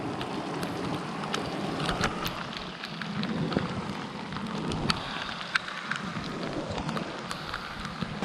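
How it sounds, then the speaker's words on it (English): Steady rain falls in a river valley, a dense hiss with scattered drip-like ticks, while low rumbles of distant thunder roll faintly underneath throughout. "rain is here, eh?"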